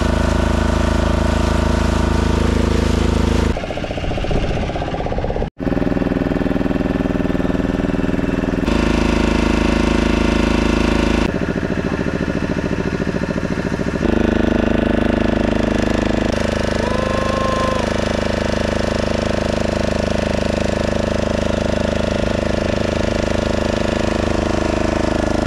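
A twelve-seat motor boat idles on an estuary where river meets sea near Dublagadi beach, its engine a loud, continuous rumbling drone that shifts in tone several times, with one sharp click partway through.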